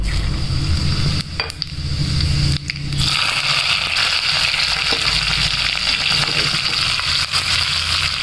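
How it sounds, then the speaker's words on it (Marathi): Green chillies fry in a hot pan with a loud, continuous sizzle, broken by a few stirring and scraping sounds early on. "इथे आता मिरच्या फ्राय करून घ्यायच्या हे अशा पद्धतीनं"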